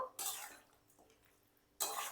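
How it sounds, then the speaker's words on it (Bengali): Vegetables with bottle gourd, spinach, eggplant and fried lentil dumplings are stirred in a pan, giving two brief, close scraping strokes separated by a quiet pause. "এবার দিয়ে সব সবজিগুলোকে ভালো করে আমি মিশিয়ে দেব"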